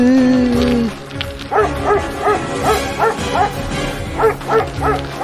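A dog gives a quick series of short, rhythmic yipping barks, close and loud, after a brief sustained tone at the start.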